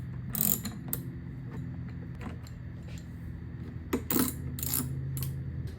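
Bolts being snugged down on a Triumph Street Triple R motorcycle tail fairing during a race-replica build, with a few scattered close metallic ratchet clicks and tool clinks over a low background hum.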